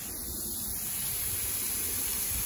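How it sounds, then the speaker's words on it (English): A garden hose sprays water outdoors onto plants, a steady, even hiss that stays close and constant throughout. "I'm outside watering my plants with the garden hose."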